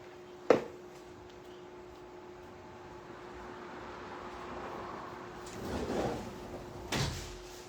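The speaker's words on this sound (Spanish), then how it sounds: "Deme un segundo en lo que cierro esta puerta." A door closes with a single sharp thud near the start of a quiet room with a steady hum, followed later by a soft rustle and another lighter knock.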